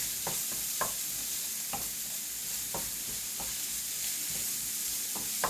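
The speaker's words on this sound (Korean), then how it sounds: "잘 볶은 것 같아요. 잘 볶았습니다." Food being stir-fried in a pan, with a steady hiss of sizzling punctuated by repeated scraping clacks of a utensil against the pan.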